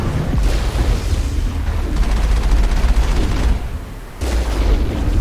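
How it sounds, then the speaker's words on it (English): Gunfire in the Mass Effect video game, loud continuous bursts of rapid shots and booming impacts filling the whole stretch, with a brief dip before another heavy volley. "you can just shoot them"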